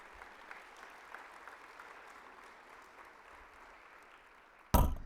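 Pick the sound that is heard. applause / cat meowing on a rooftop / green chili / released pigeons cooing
applause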